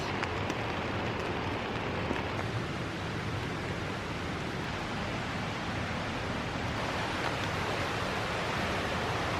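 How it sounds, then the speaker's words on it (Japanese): Steady rain falling outdoors at a solo campfire spot, a dense, continuous hiss with no break or change across the whole stretch, fairly loud and close, with no talking. "今日は雨です。"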